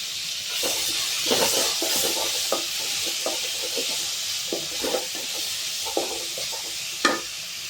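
Chopped tomato with a little salt sautés in a pan for a Tamil tamarind kuzhambu, giving a steady soft sizzle broken by repeated scraping stirs of a spoon against the metal.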